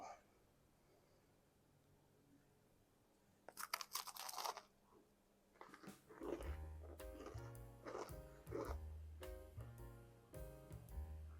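Loud crunching bites of a crisp anise cookie made with cake flour, several chews in a row close to the mic, with a low hum underneath.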